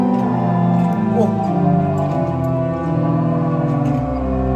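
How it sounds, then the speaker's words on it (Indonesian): A rare Indonesian organ, one of only three in existence, plays sustained harmonic chords with a pure acoustic tone and no microphones inside, loud and steady throughout with faint voices underneath. "Ini suara murni dari orgelnya."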